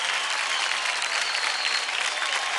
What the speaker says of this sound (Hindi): Come on guys, जोरदार तालियां हो जाए मास्टर टैलेंट्स के लिए।